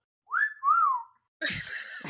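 A person whistles two short rising and falling notes alone in a quiet room, followed by a burst of rustling noise.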